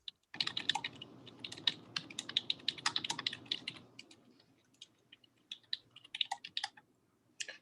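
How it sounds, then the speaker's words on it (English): Quick, uneven clicks of typing on a computer keyboard during a live forex trading session, close and fairly faint, in bursts with a short slower pause partway through. "Can y'all hear my typing?"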